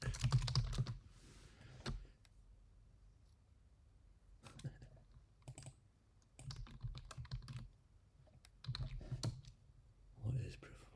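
Keys clack on a computer keyboard as a question is typed, in short bursts of taps with brief gaps, close and fairly quiet.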